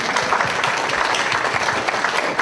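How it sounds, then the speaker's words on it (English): During a joint city council and planning commission meeting, the room fills with steady, moderately loud applause from the audience, a dense wash of clapping with no speech. "Feel free to applause."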